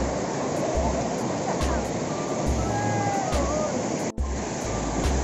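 River water rushes and churns steadily, a loud continuous wash of flowing water close by at an outdoor riverside spot.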